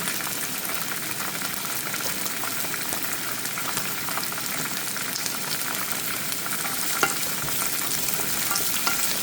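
Potato and carrots fry in a pan with a steady, dense sizzle and occasional scraping stirs, continuous and close with no talk.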